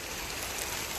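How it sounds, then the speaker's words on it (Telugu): Steady rain pours down outdoors, a dense even hiss of falling water with no pauses and no voices. "చూడండి వర్షం ఎట్లా వస్తుందో."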